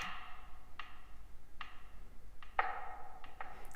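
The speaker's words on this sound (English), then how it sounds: "the last thing that I did was a click, and it was one of the engine room sounds" Sharp, evenly spaced clicks from an engine room played back at different pitches, ticking like a clock, about five or six in a quiet room.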